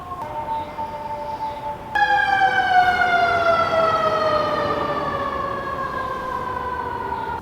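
An ambulance siren on a New York City street wails out loud and close, its steady descending, wavering tone beginning partway through and holding over the background hum of the street.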